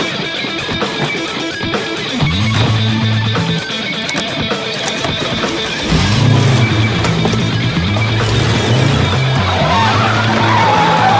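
A car driven wildly skids with repeated loud tire squeals over a revving engine, several long screeches coming close together near the listener.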